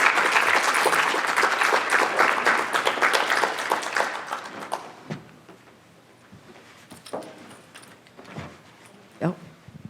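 An audience at an academic presentation on queer housing justice claps loudly for several seconds, then the applause thins and trails off into scattered claps and room noise, with speech mixed in.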